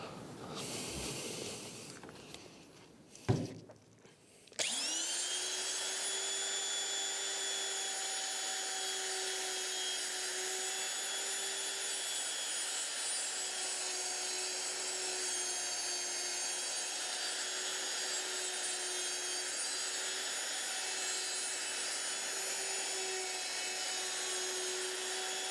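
After a few quiet scrapes and clicks, a handheld wood router spins up with a sharp whine and holds a loud, steady high-pitched scream while it cuts a hinge recess into a wooden door using a jig. No one speaks.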